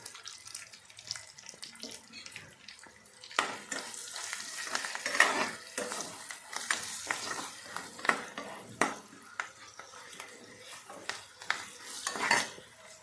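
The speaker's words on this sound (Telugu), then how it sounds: "ఇప్పుడు మ్యాంగో ముక్కస్ మొత్తం కలిసేలాగా కలుపుకోవాలి" Mango pieces seasoned with turmeric are stirred and mixed in a pan. Irregular scraping and clattering strokes of a spoon sound close over a light sizzle, with quiet stretches at the start.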